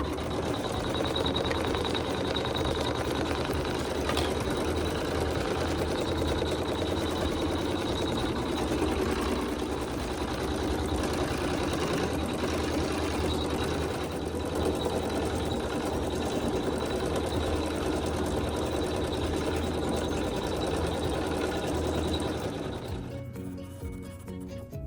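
An embroidery machine stitches quilting on a quilt block, a steady, loud mechanical whir with a fine rapid stitching texture that runs almost the whole time before cutting off near the end.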